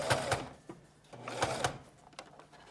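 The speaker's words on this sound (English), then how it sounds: "gonna go and sew right at the edge over here on both sides" A small inexpensive sewing machine stitches along the edge of a three-layer fabric face mask, running in short bursts of rapid stitching with brief pauses between them, close and moderately loud.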